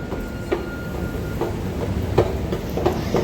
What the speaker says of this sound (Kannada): ಮೆಟ್ರೋ ಸಿಕ್ತು ಅಂತೂ ಇಂತೂ.